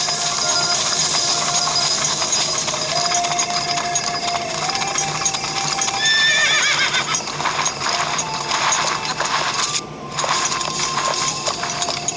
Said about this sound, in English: I'm gonna go get my horse, put him back in the stable.